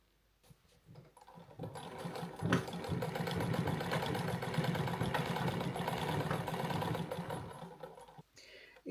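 A sewing machine runs steadily while stitching a puppy quilt, a continuous close whirring hum of motor and needle that starts after a second and stops abruptly near the end, with no talking.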